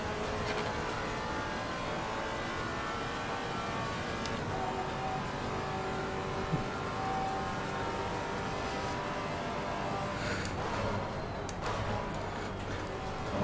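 A Maserati GT4 race car at Watkins Glen in the Assetto Corsa Competizione video game, a steady engine drone held throughout, with another car passing by and a brief rise in level at the end.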